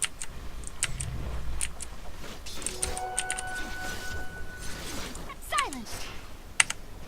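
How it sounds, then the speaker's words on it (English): Computer keyboard typing picked up over open mic during a Dota 2 match: rapid irregular clicks and taps running steadily through the clip over a noisy background, with some faint voices and tones mixed in. "my keyboard tagging does show up on the Dota 2 open mic"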